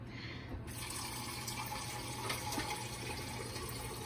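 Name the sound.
water being added to chicken noodle soup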